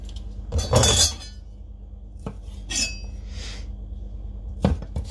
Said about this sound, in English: So I'm just going to slice these diagonally